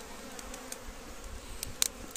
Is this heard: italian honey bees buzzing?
yes